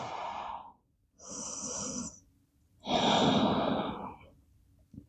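Slow, audible breathing of a person resting in a yoga pose with forearms on the mat: three long breaths with airy, sighing exhales, close and quiet, with no talk.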